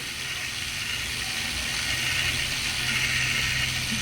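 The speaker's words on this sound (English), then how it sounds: "So the motor rotates the gears that will in turn rotate the wheel." Small motor turning the white gears of a giant wheel robotics model, producing a steady, close mechanical whir with faint ratcheting clicks throughout and no talking.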